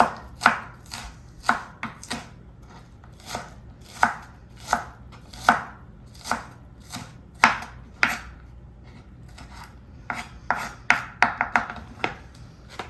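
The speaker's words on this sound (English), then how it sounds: "I'm just going to chop this into slice it into fine slices, and then I'm going to chop it" Knife chopping an onion on a cutting board, a steady series of sharp close taps with brief pauses, then a faster burst of chops near the end.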